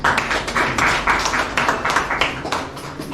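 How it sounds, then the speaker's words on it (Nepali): Neighbourhood association meeting audience breaks into applause, many hands clapping together in a dense, steady burst that continues for a few seconds, loud and close. "यदि छैन भने ताली बजाइदिनुलाई अनुरोध गरेँ"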